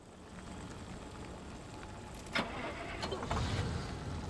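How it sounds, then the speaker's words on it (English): In Pacific Drive a car engine cranks and catches with a sharp click, then settles into a low steady rumble, close and moderately loud. "Start the engine."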